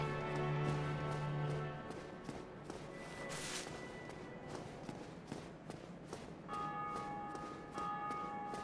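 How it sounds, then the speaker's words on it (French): A church bell rings out in Dark Souls Remastered, near the stairs to the Undead Church in the Undead Burg. Its sustained tones hang over steady ambient game noise, with soft thuds and footsteps scattered through. "Ah, on entend là une cloche."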